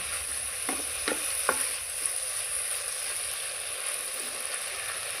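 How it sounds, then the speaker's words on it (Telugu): Moringa leaves frying in hot oil give a steady, close hiss with a few short crackling pops near the start, no voices. "నూనె వేడి కాగానే ఆకేసుకోవాలి మునిగాకు నూనెలో"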